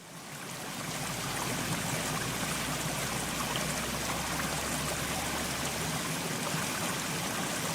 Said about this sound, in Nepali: आबु खैरेनीबाट मुगलिन बाटोमा एना झरना पनि रहेको छ।